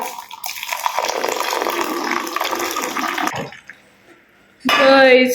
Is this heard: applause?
no